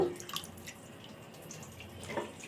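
Washed potato slices drained from water, faint drips and small splashes trickling over a few seconds, quiet and close with no talk.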